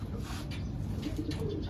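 A pair of breeding pigeons on their first clutch coo nearby, soft low rolling calls repeating over a quiet background hum.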